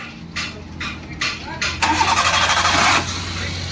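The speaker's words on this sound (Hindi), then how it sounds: "गाड़ी को स्टार्ट करो।" A Maruti WagonR car engine starts: the starter cranks in four short bursts, then the engine catches and runs loudly and steadily before settling to a quieter idle.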